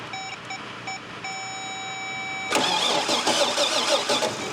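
Toyota FJ40 engine cranking on a first start attempt, loud steady churning that kicks in about halfway through, preceded by a steady electronic beeping tone with short gaps.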